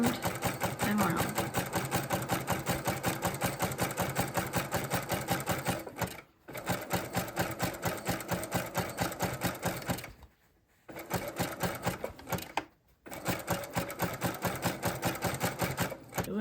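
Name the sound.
sewing machine stitching fabric basket from jelly roll strips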